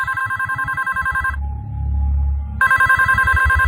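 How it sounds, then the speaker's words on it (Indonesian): Telephone ringing in a Bali villa room, a loud close electronic warble in rapid pulses, pausing briefly under a low hum before the ringing resumes. "telepon itu berbunyi lagi."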